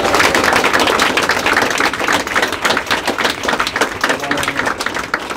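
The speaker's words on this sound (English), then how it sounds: "Let's give a big Al a round of applause and then the other big Al a round of applause" Town hall audience in Adel, Iowa claps loudly and densely. The applause stays strong before thinning into more separate claps toward the end.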